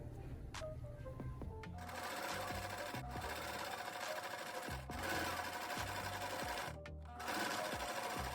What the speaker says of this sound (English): And then you just sew around the line.